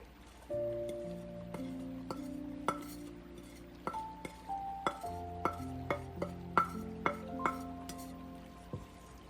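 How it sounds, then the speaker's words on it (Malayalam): Metal utensil clinks and scrapes against a pan in a quickening series of taps as a thick roasted rice flour mixture is stirred, close and fairly quiet. "വീണ്ടും നന്നായി ഇളക്കി കൊടുക്കാം"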